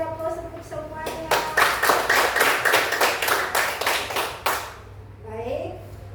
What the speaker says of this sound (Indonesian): Sekali lagi semua beri aplaus untuk semuanya